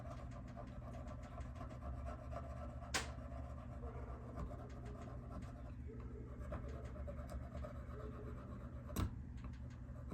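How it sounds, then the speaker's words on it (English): A screwdriver scrapes at a part from a vintage Stihl 041 chainsaw, making faint, steady rubbing and scratching with a few sharper ticks, close and quiet. "Do the old scrape it with a screwdriver method."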